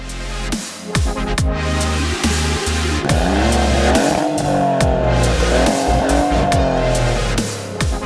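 A Maserati GranTurismo Trofeo starts up and accelerates, its loud engine rising through repeated revving sweeps with quick gear changes and a few drops and climbs in pitch, close and dominant throughout.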